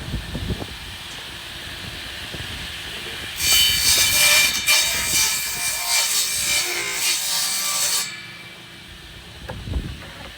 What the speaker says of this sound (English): Not bad with this makeshift jigsaw